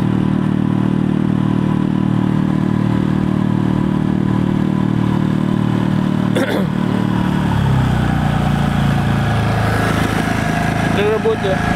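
Parsun F5 BMS outboard motor running on a small boat, a loud continuous droning buzz that shifts in pitch partway through, with someone talking over it.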